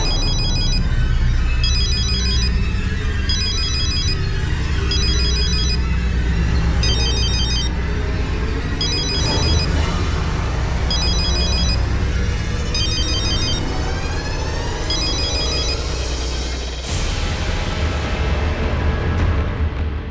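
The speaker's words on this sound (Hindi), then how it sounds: "मैं अभी सीमा जी को फोन करता हूं।" A telephone ringtone plays loudly and repeatedly in bursts of bright electronic tones over a dense rumbling background in a Hindi television crime drama scene, continuing steadily for about twenty seconds without speech.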